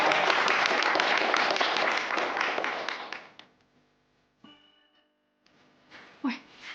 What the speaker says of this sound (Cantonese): 俾啲掌聲啦！